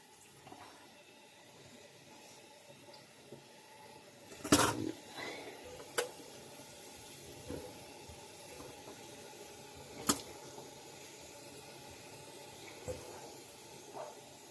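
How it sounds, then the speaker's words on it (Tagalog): Water is poured over leftover bread in a home kitchen. It makes a quiet trickle with a few brief, sharper splashes and handling knocks against a low background hiss. "Yan, lagyan natin ng tubig."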